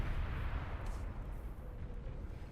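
Explosions roar from the real-time strategy game Beyond All Reason as light laser towers set up defences, forming a dense, continuous rumble of overlapping blasts and bursts with no quiet gaps.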